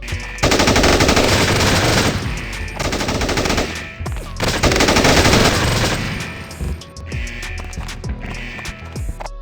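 Rapid automatic gunfire from the mobile shooter IGI FPS Shooting, loud dense bursts with short breaks between, then scattered single shots near the end.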